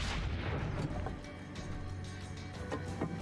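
A big explosion in Assassin's Creed: Brotherhood, a deep booming blast that opens loud and rolls into a sustained low rumble with scattered crackling debris across about three seconds.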